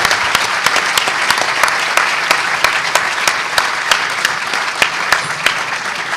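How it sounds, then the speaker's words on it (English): Audience applause fills a locksport talk at the HOPE X hacker conference, a steady, loud wash of many hands clapping with sharper individual claps popping out throughout, and no talking over it. "Clap the hands for everybody."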